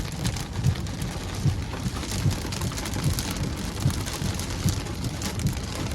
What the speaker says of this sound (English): Look at the wind-driven rain.